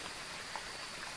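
Steady rain falls in the Phasmophobia horror game as a soft, continuous hiss of fine patter. It stays fairly faint and even, with no talking.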